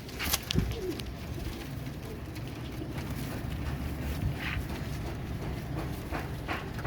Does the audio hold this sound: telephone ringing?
no